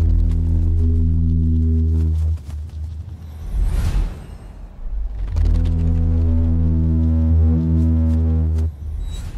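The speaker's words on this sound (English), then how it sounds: "The air screaming through his spread out tail feathers makes them vibrate in a very special way." Anna's hummingbird diving, its spread tail feathers vibrating in the rushing air to make a loud sustained buzzing tone, heard twice in slowed-down form with a brief gap between the bursts.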